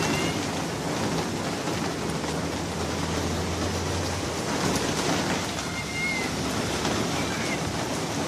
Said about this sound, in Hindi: यहाँ हमारे शेड पे भी बारिश पड़ रही है, जिससे खूब शोर हो रहा है